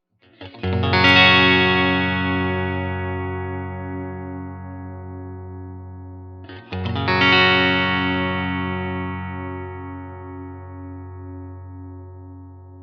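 Westcreek TT-20 electric guitar on its bridge pickup, strummed twice: a bright, ringing chord that sustains and slowly decays, then a second chord around the middle that rings out the same way, with no talking.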